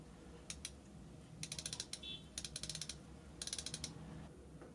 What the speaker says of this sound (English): 120 clicks, unidirectional, but it is a super smooth action and you can hear the clicks